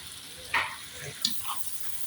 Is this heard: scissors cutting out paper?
no